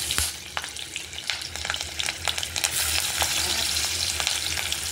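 Onions frying in a pan for egg and potato curry, a close, steady sizzle with crackles and bursts of stirring scrapes throughout, with no voices over it.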